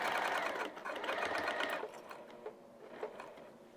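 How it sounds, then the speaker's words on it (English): A sewing machine stitches through vinyl fitted with a Teflon presser foot, a steady dense whir that runs continuously for most of the stretch before easing into a few short separate bursts near the end. "I've got my Teflon foot on, so the vinyl will not stop my sewing."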